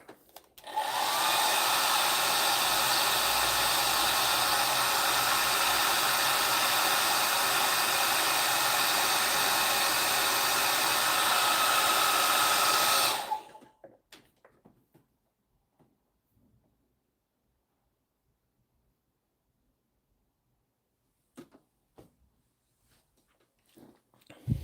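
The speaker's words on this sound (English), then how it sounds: "while I upset you with a hairdryer" A hair dryer blows steadily and loudly for about thirteen seconds, then cuts off, leaving near silence with faint handling noises.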